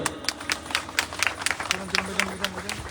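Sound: audience applause at senior citizens' aid distribution

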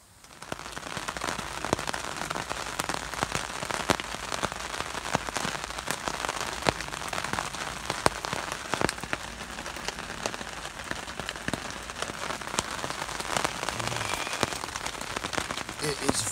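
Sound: rain falling

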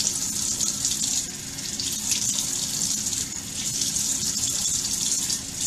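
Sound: water tap running, rinsing off face wash

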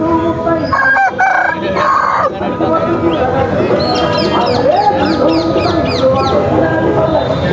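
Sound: rooster crowing

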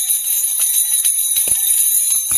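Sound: dog potty training doorbells ringing

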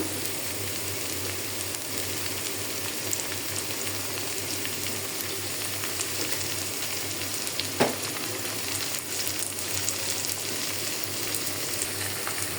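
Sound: frying onion, potato and garlic paste for eel fish curry

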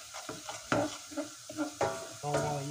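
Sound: stirring curry spices in a pan

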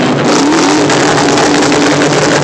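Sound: car exhaust revving at an exhaust competition

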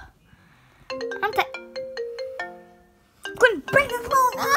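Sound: phone ringing

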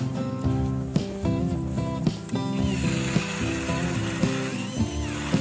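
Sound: cordless screwdriver drill running on a frozen lake

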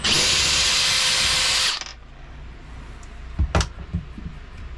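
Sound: power drill removing four screws from fan panel

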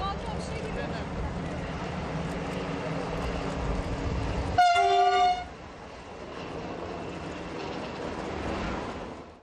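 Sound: high-speed train arriving

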